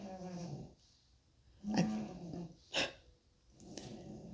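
A sleeping dog snoring indoors, slow rhythmic rasping breaths with about three louder snorts spaced roughly a second apart, close and fairly quiet.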